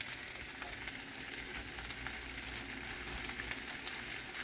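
Onions and garlic fry in a hot skillet with beef stroganoff ingredients, giving a steady, even sizzle that holds at a constant level throughout, close and alone without talk.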